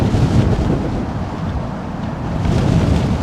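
Strong gusty crosswind blows at London Heathrow Airport. It makes a loud, continuous roaring rumble with no voices, swelling slightly near the end.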